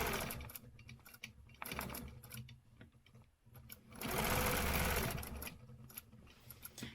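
Sewing machine stitching a quilting stencil design with thread, a steady mechanical whir that runs in bursts, stopping briefly and then surging loudest for about a second mid-clip before continuing in shorter runs.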